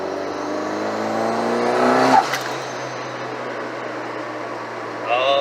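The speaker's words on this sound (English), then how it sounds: "I don't know if you'll be able to hear the turbo spooling or not." A car with an FP Red turbo, driven on a road, accelerates with a rising engine note that peaks and then drops as a gear changes. A high whistle returns near the end as the turbo spools again.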